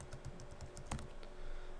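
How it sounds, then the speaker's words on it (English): Typing on a computer keyboard while entering a category name in a school gradebook website, a quick run of soft close key clicks with one sharper tap near the middle, heard alone without talk. "typing in extra credit"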